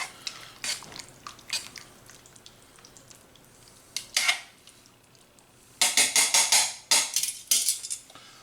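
Spoon scraping and clattering against a slow cooker crock while stirring Mississippi chicken, in scattered soft clicks at first, then a loud burst of rapid, sharp scrapes toward the end.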